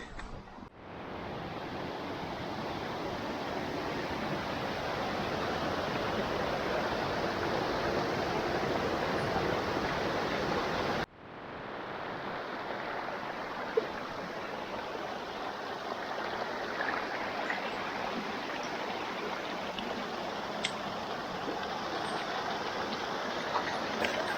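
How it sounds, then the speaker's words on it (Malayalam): Small streams run alongside a forest trekking trail in Kanyakumari, a dense continuous rushing flow that stays steady and fairly loud throughout, with a brief break partway and no voices. "നമ്മൾ നടന്നു പോകുന്ന വഴിയിലും അതുപോലെ വഴിയുടെ 2 വശങ്ങളിലും കുറേ അരുവികളുണ്ട്."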